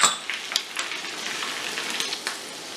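Garlic, green chili and cumin fry in a pan for a lentil and spinach dal, a crisp, steady sizzle up close with a few sharp utensil clicks and stirs, no talk.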